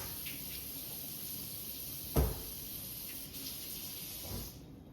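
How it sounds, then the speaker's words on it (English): Hot tap water runs onto a metal sheet while chocolate transfer treats are being made. A steady soft hiss plays at moderate distance, with one brief louder splash near the middle and a slight surge toward the end, and no one speaks. "I'm running hot tap water."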